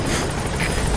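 Helicopter in the video game Metal Gear Solid V, a steady, dense rotor and engine roar filling the whole second without pause.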